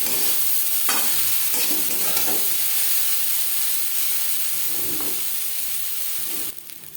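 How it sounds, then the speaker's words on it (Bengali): Pasta gets stirred with carrot and capsicum in a hot pan, a continuous loud sizzle and hiss with spatula scrapes and clatters, the frying dropping away abruptly near the end. "সবজির সাথে পাস্তা বেশ ভালো করে মিক্স করে দেবো"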